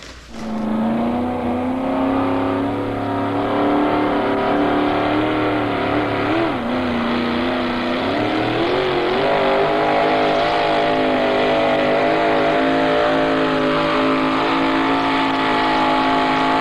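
A race truck engine holds a steady, loud roar with slight rises in pitch, revving continuously without a break.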